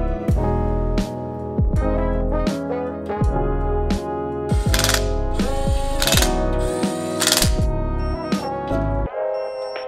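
A ratchet wrench clicks rapidly in repeated strokes while torquing the center support bolts on a 48RE transmission build, loud and close, with brief pauses between runs of clicks.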